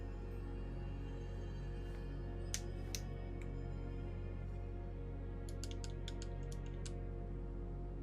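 Scattered clicks of a computer keyboard or mouse at a streaming setup, faint and close, in brief clusters over a steady low background hum with no talking.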